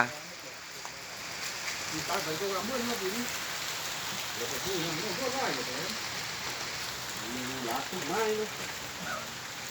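Steady rain falls and patters on surfaces with a constant hiss throughout, while people talk over it in the foreground.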